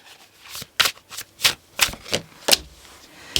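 Tarot cards being shuffled by hand in a series of crisp, riffling bursts roughly every half second to second, close and clear with no talking.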